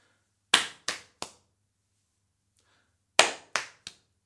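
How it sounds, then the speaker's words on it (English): Butterfly body percussion, with the backs of the hands clapped together: two sharp groups of three slaps, close and clean in a quiet room. "you bring your hands to your arms and back up again, so you're clapping with the back hand of your hand"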